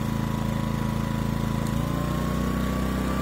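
A Pulsar 2300W portable generator engine runs at a steady, even drone with a constant low hum and no change in speed, close and alone.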